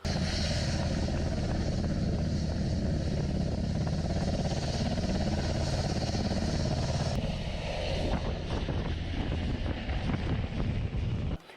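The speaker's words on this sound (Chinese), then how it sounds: "有2架直升飞机就停留在海滩上啊" Two helicopters sit on a beach during a hostage rescue operation, giving a loud, continuous rotor and engine roar buffeted by heavy wind noise that shifts slightly partway through, with no speech.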